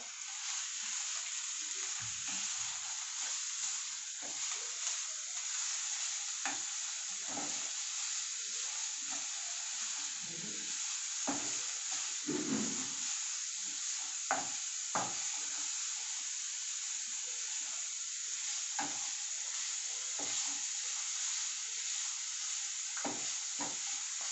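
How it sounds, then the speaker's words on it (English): Carrot frying in a pan while being stirred, a continuous loud sizzling hiss broken by frequent scraping strokes of a spoon, steady throughout with no talking. "Now I'm adding the carrot. Now I'm going to stir."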